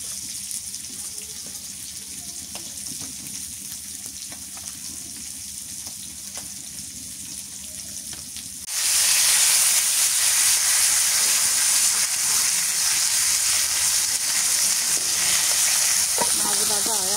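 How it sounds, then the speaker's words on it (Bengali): Fish frying in hot oil: a quieter crackling sizzle that suddenly swells into a loud, dense, continuous hiss partway through and stays strong until the end. "মাছ ভাজা হয়ে গেছে।"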